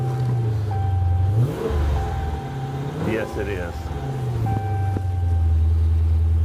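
A car engine idles with a steady low rumble, briefly revving, under close conversation between people.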